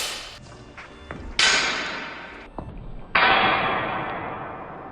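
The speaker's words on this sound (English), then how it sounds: "That's the sound of my head, soft bony parts, hitting steel." Head striking a steel barbell during a snatch: two sharp, loud metallic clangs that ring and decay for over a second each, with softer thumps and clatter in between.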